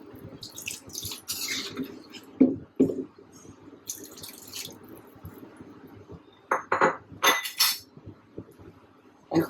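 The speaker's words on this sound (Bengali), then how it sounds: "এখন আবার ঢাকনি দিয়ে দিব।" A lid clinks down onto a pan of hog plum chutney after water is added, a few sharp metallic taps and knocks standing out over a low background, with no talking.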